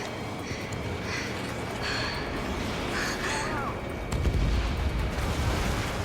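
Aerial combat in Ace Combat 7, Mission 19 on Ace difficulty, with gunfire bursting over a dense, steady roar of jet engines and battle noise that swells heavier near the end.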